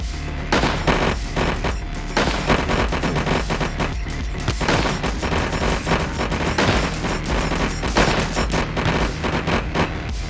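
Rapid explosions and gunfire burst from the video game Tonight We Riot, dense repeated booms and crackling shots stacked over a loud continuous rumble, with no talking.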